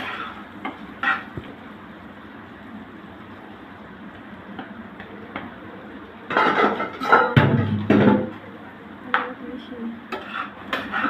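Spoon stirring chira pulao of flattened rice with potatoes, fried nuts and raisins in a pan: soft scraping and rubbing bursts close by, after a quieter stretch of faint ticks.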